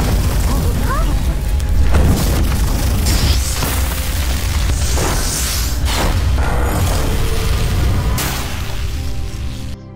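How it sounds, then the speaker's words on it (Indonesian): A magic stone explodes in a fantasy film effect: dense, loud rumbling booms and bursts, with several sharp blasts over a continuous roar. "batu air mata abadi mengeluarkan reaksi yang seketika meledak di hadapan mereka"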